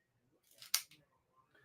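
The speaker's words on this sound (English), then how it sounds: "Then we take my handy dandy lighter and cutter, and we're going to cut the cigar." A cigar cutter snips through the end of a cigar in one sharp, close clipping snap, with faint handling rustle just before and after.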